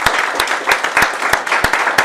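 A church congregation applauds during a Spanish-language sermon on faith, a dense roomful of clapping with sharp individual claps standing out in an uneven rhythm, loud and close, with no talk over it.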